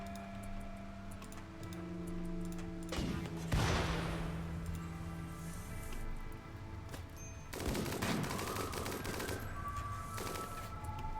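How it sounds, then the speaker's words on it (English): Rapid minigun fire in the colony-building game Rimworld, several sustained bursts of dense crackling shots over a soft background hum, moderately loud, with no talk. "Avalius just took a minigun shot from good old McCain there"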